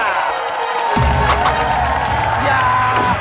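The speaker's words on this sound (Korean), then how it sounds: "라면 마니아 가족에게 여러분들의 큰 박수가" A television studio audience bursting into loud cheering and applause for a ramen-loving family on a variety talent show, the crowd noise swelling suddenly and sustaining, with whoops over the top.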